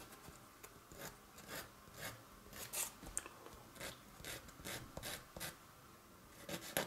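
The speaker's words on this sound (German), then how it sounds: "Und wieder schleifen." Sandpaper rubbing on a small part of a DeAgostini Millennium Falcon model kit, heard as quiet, repeated back-and-forth rasping strokes in an irregular rhythm, close up with no talking.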